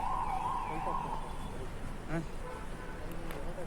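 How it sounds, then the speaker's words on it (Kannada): A police jeep siren wails on a city street near a mall, a wavering tone early on that fades against traffic noise, with a brief horn blip later and people talking nearby. "ನೋಡಿ ಪೊಲೀಸ್ನವರ ಜೀಪಿದ್ದು ಸೈರನ್ ಕೂಡ ಆಗ್ತಾನೆ ಉಂಟು"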